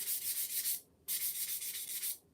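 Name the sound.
lightly sanding a wood kit piece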